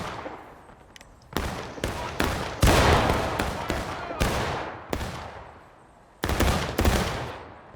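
Musket volleys ring out in a Civil War-era War of Rights battle at Harper's Ferry, a dense run of loud, overlapping shots and crackling fusillades in bursts, with faint voices beneath.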